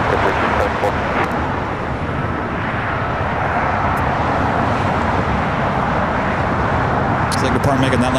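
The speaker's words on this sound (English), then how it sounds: "Now we have the United Dreamliner now starting its roll down at 25 right" United Dreamliner jet starting its takeoff roll on runway 25 right at LAX, a steady loud engine rumble and roar heard at some distance, with brief clicks and a short voice near the end.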